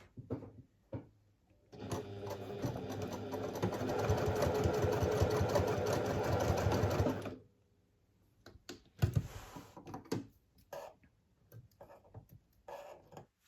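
A sewing machine basting a fabric pouch in place, running steadily for about five seconds after a few quiet handling sounds, then short stop-start bursts of stitching.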